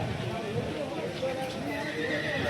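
Horses at the Yeola horse market whinnying amid a busy crowd, with neighs and hoof clip-clops blending into dense background chatter and voices talking throughout.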